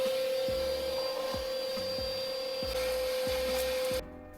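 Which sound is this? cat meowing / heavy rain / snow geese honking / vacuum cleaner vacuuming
vacuum cleaner vacuuming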